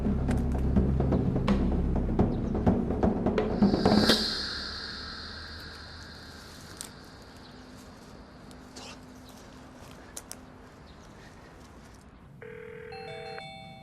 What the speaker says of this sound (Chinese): 阿飞，我跟你说，你赶快接电话，你再不接电话